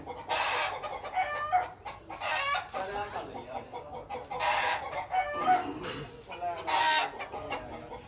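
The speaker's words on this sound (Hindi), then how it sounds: "ये मुर्गियाँ कहाँ डाल दी, बाहर निकाल दें।" Sick hens and roosters weakened by Newcastle disease (Ranikhet) cluck and squawk repeatedly, with a crow or two, fairly close and moderately loud over the full stretch, with no talking.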